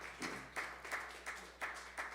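Applause from a small audience at a live music gathering, heard as scattered, rhythmic bursts of clapping at a fairly low level. The claps land in repeated pulses about every third of a second.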